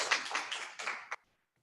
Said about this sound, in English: we're not supposed to clap in the gallery